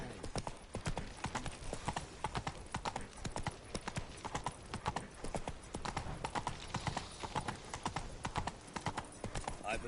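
Horse hooves clip-clop at a steady trot through the whole stretch in the video game The Witcher 3, loud and rhythmic, with a brief whinny-like sound mixed in.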